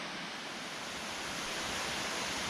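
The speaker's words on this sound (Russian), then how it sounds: "Вышли к последнему водопаду, люка 4" The last of the Lyuka waterfalls roars in a rocky gorge, a dense unbroken rush of falling water close by.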